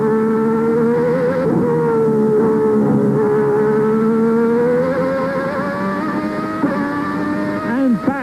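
Onboard a 1990 Lotus Lamborghini Formula 1 car at the German Grand Prix, the engine screams loud and close at a high, sustained pitch that wavers with throttle, sagging and climbing again near the end.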